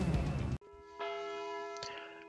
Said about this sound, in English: as the bell tolls 10 in the evening